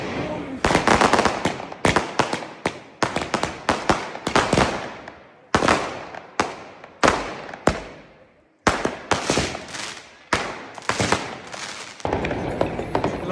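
Firecrackers go off in the streets of a German town around midnight on New Year's Eve. Loud, sharp cracks come in quick rattling bursts with short gaps between them, some close and some echoing off buildings.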